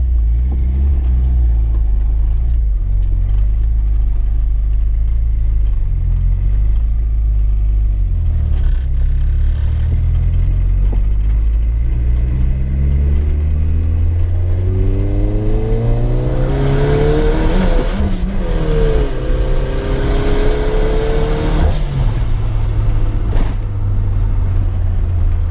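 A turbocharged car engine drones at low revs while driving, then climbs steadily in pitch through a long rev, peaks with a busy burst of mechanical and turbo noise around the high end, and drops back to a deep idle-like rumble.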